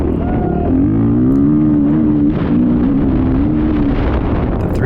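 A 430 motocross bike rides on a moto track at a Wicomico Park GP race, its engine note holding steady and loud, then rising and falling, with heavy wind buffeting over the microphone.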